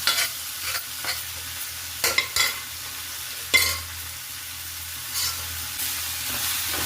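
Drumstick leaves and gram sizzle in a pan with cooked onion, a steady frying hiss broken by sharp scraping strokes of a spoon stirring at irregular intervals, close and with no talking.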